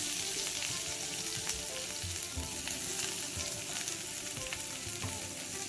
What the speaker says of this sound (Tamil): கடுகு, உளுத்தம்பருப்பு, சீரகம் போட்டு தாளிச்சிக்கலாம்.